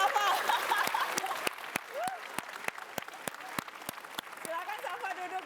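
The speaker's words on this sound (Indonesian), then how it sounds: "Kita kasih tepuk tangan untuk Safa" Studio audience applause on a televised Indonesian talk show, a dense patter of clapping carrying steadily through the clip with sharp individual claps standing out, while a host speaks over it.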